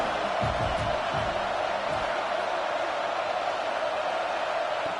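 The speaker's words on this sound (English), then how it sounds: "Listen to the crowd energy here in the early going" Stadium crowd at a college football game between Arkansas and Kansas State, a steady dense roar filling the whole clip with faint cheering swells early on, loud and continuous with no clear voice on top.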